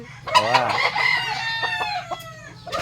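A rooster crows loudly and close by, a drawn-out rising and falling call, followed by a few short clucks.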